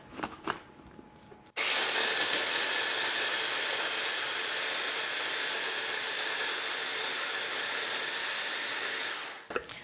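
A food processor blitzes a lamb kebab mixture with salt, a loud continuous whirring roar lasting several seconds before cutting off, close and without talk.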